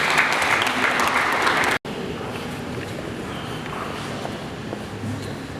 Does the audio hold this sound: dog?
no